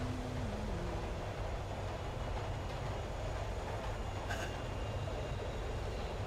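A subway train runs along the track with a constant loud rumble and roar, steady throughout with a brief high metallic squeal partway through.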